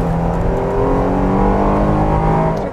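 Inside the cabin of a 2021 Jeep Grand Cherokee L SUV, the engine revs with a loud, droning, steady hum that holds and rises gently throughout, with no voices.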